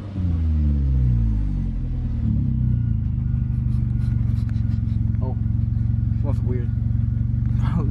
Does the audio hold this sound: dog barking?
no